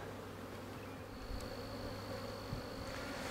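Honey bees buzz steadily around an open hive during a swarm-prevention inspection in May, a dense continuous hum close by, with a couple of brief thumps or knocks partway through and no talking.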